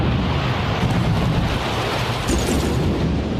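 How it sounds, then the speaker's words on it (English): A bomb blasts a bridge in Thomas and Friends, a loud, sustained roaring rumble with heavy low-end crumbling noise that keeps churning steadily throughout, with no voices. "Bomb detonated!"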